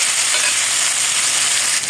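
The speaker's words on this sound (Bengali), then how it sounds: "জিরার গুঁড়া, ধনিয়ার গুঁড়া দিয়ে কষিয়ে নিচ্ছি।" Turmeric, chilli, cumin and coriander powders sautéing in a pan make a continuous, fairly loud hissing fry, close and even throughout, with no voices.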